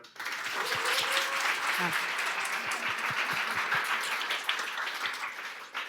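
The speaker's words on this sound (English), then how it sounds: "Please, big round of applause for them." Audience applause at a London coding bootcamp demo day, a dense sustained burst of many hands clapping that swells quickly and holds steady for several seconds, with a voice speaking over it.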